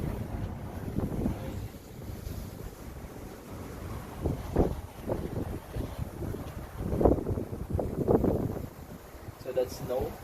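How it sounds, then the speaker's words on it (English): Strong wind blows outdoors during a blizzard at about minus 25°C, gusting and buffeting the microphone in uneven bursts while a person talks. "So if you can see, it's really windy outside."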